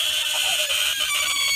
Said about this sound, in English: Bellowing bullfrog.